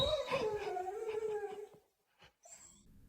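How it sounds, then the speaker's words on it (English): A single dog gives a drawn-out, falling howl-like cry, fairly close and alone, then fades into near silence broken by a couple of short faint sounds. "Then the barking starts, louder, sharper, like he's warning something to stay back."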